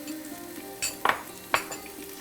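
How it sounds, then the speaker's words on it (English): Onion and green chilies frying in a pan as a utensil stirs them, giving a few distinct scraping clinks over a low sizzle, close and moderately quiet. "Let's give it a stir."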